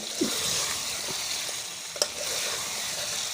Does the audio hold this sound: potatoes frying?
yes